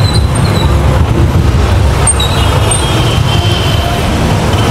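Steady road traffic rumble surrounds a delivery vehicle driving through city streets, a continuous loud low drone of engines and tyres with no break.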